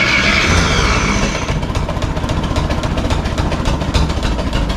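The starter motor of a Ferguson TO20 tractor cranks the engine, a loud, close, rhythmic chugging churn that runs throughout without talk.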